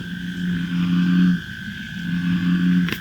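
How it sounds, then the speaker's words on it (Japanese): Frogs croak at night near a campsite, two long, deep, droning calls close by, each lasting over a second with a brief gap between them, against a quiet background. "カエルの鳴き声が結構不気味。"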